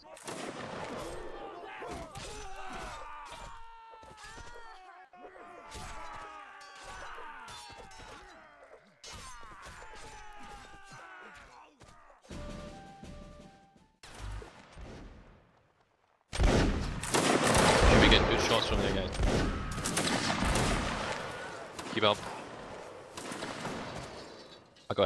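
Musket volleys crack out in a Napoleonic Wars line-battle video game, first as scattered sharp shots over distant talk, then a dense, loud roar of massed gunfire in the final stretch, with voices faint beneath.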